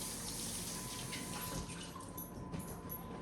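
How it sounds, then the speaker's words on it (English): Water runs from a faucet as hands are washed beneath it, a soft, steady splashing stream heard faintly at a distance with no voices. "Let me wash my hands here."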